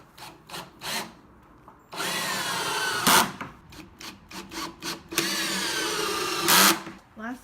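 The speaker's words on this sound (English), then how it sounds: "First drill of the legs." A power drill drives screws into the legs of a wooden table, with several short close whirring bursts and two longer loud runs as the screws bite. People talk between the bursts.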